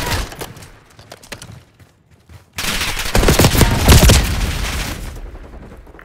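Call of Duty Black Ops 6 firefight: a few scattered shots at first, a near-silent lull, then a sudden loud barrage of rapid, overlapping gunfire that rolls on and slowly tapers off.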